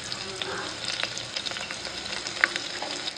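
Spices, chillies and dal sizzle as they are tempered in hot oil for sambar, giving a steady close crackle with scattered small pops and stirring, and no talking.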